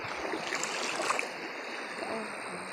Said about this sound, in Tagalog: Kalinaw sa tubig dito sa amon. Salog lang yung siya.